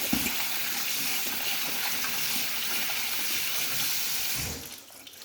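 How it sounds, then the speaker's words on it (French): Cold tap water runs steadily over freshly shucked scallops in a sink, a continuous close splashing rush that drops away and quiets near the end. "une fois qu'on a fini de décoquiller ces Saint-Jacques, on les rince"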